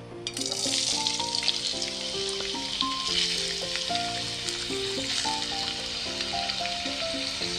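Chopped onion frying in half a cup of hot oil, giving a loud, continuous crackling sizzle up close, with a steady tonal background melody running underneath and no speech.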